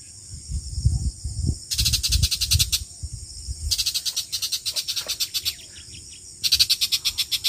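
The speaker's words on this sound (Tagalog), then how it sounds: "Huni ng ibon." Outdoor bird song on a cloudy mountain walk, in repeated pulsing bursts of high chirping, with low rustling and crunching nearby between them.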